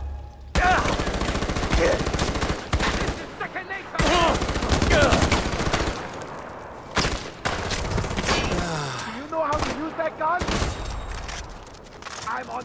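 Automatic gunfire in Far Cry 4 at the Royal Guard Kennels, dense sustained bursts and a fusillade filling most of the clip, with excited game voices shouting over the shooting.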